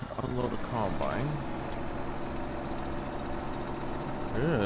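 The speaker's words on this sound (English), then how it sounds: "This tractor's struggling." A tractor engine in Farming Simulator 17, rated at just over 100 horsepower and straining under a heavy load, drones steadily and loudly throughout while someone talks over it.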